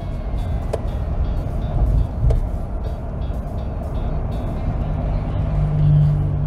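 A Ford F-250 with the 6.7L Powerstroke diesel engine towing a full load uphill drones with a steady low rumble, a couple of brief knocks early on.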